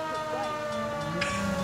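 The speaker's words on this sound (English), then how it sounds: "Yeah, different siren." An emergency vehicle siren in the video game LA Noire wails in a rising and falling tone over a steady engine drone, moderately loud and uninterrupted by voices.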